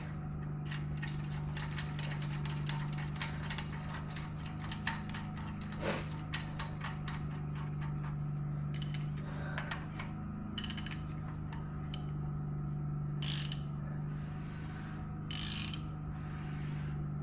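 GM 3.6 LFX V6 crankshaft being turned by hand during a timing chain install, giving steady close ratcheting clicks over a low mechanical hum, with a few sharper metallic clacks partway through.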